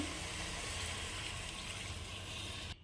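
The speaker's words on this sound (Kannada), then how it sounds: "ಸ್ವಲ್ಪ ನೀರು ಹಾಕಿ" Water pours steadily into a pot of farm-egg chicken curry in a pressure cooker, a continuous close splashing gush that cuts off abruptly at the end.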